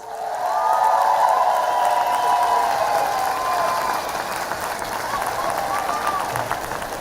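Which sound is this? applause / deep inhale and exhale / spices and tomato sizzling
applause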